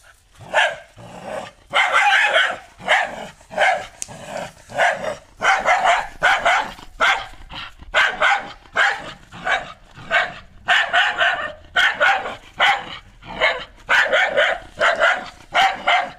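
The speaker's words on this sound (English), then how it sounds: "There were dogs barking on the street" Dogs bark repeatedly and insistently, a steady series of sharp, loud barks with brief pauses, heard without any talking.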